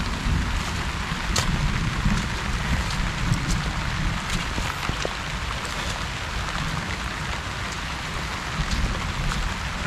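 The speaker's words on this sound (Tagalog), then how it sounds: "Medyo malakas-lakas po yung ulan eh." Heavy rain pours steadily and loudly on a farm with eggplant plants, a dense hiss of drops drumming on surfaces with no voices.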